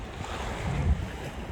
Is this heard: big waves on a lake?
yes